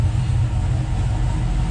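A truck engine idles close by, a steady, loud low-pitched rumble that holds constant without any change in pitch or voices.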